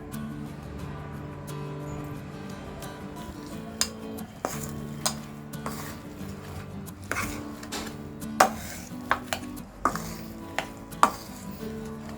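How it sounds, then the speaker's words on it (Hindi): Boiled potatoes are mixed with red chilli powder, turmeric, coriander powder, salt and chopped coriander using a masher for an aloo paratha filling, giving soft squishing and repeated sharp taps and clinks against the bowl, growing louder toward the end. "हमने सारे मसाले आलू में मिक्स कर लिया है"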